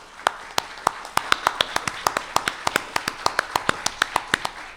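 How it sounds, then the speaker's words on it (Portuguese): Steady clapping from a lecture audience at an academy literary event, a run of sharp separate claps about two to four per second, fairly close and alone without talk. "Palmas para ele."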